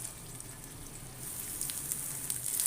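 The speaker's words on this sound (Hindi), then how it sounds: "अब मैं इसके अंदर कबाब तलूँगी। अब मैं एक एक करके कबाब रख दूँगी।" Beef reshmi kebabs fry in oil on a grill pan, giving a soft, steady sizzle with faint crackles that grows slightly louder toward the end.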